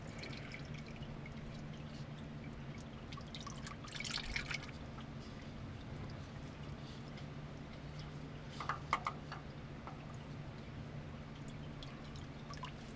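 Mobil 1 5W30 full synthetic oil drains from a Chevrolet Silverado 2500HD, a faint, steady trickle with occasional soft drips, heard alone in a quiet space.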